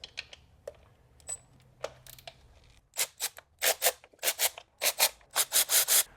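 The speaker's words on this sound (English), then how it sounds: "now we can unscrew the 5 12 millimeter nuts" Ratchet clicking in quick repeated bursts while unscrewing 12 mm nuts on a BMW F30 intake manifold, first scattered taps, then a steady run of sharp rasping clicks up close.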